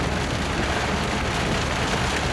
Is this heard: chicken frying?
no